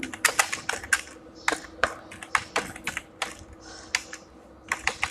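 Keys clatter on a computer keyboard in short irregular bursts of crisp clicks, close and moderately loud over a faint steady hum, with pauses between the runs of typing and no speech.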